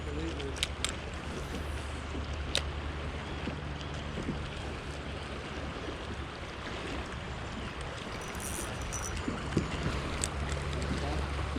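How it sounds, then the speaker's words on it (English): Whitewater rapids rush around a fishing kayak on the West Fork river near Murfreesboro, a dense, steady churning wash close to the boat with wind buffeting the microphone and occasional splashes and knocks. "We got some whitewater today."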